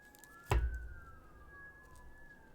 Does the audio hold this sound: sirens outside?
yes